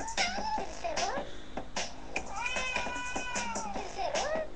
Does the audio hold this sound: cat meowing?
yes